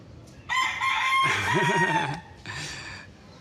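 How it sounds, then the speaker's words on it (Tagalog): A rooster crows loudly nearby, one long drawn-out call followed by a shorter second crow, with faint clucking in between. "Mayroong manok."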